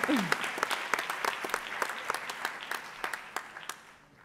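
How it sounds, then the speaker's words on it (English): A graduation ceremony audience gives a quick round of applause, dense clapping with distinct sharp claps, moderately loud at first and gradually thinning and fading out. "Let's give them a quick round of applause."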